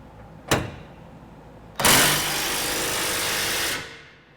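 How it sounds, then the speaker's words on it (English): An electric impact wrench with a 1 1/8 inch socket snugs a trailer hitch bolt on a 2010 Dodge Ram 1500, first a short sharp burst, then a sustained close whir lasting about two seconds before winding down. "We're going to be using our electric impact with a 1 1/8 inch drive."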